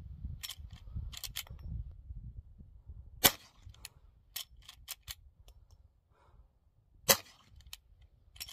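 Sharp gunshots ring out at an outdoor shooting session, a few isolated loud cracks spaced seconds apart, with fainter clicks and handling noises between them.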